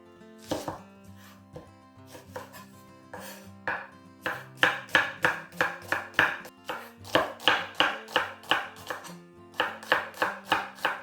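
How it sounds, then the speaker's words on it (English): A knife slicing a red onion on a board, a run of steady, rhythmic chopping strokes close by, starting sparse and settling into a quick even beat, with a brief pause before the final run of cuts. "so we've got a red onion here, so we're just going to slice this up"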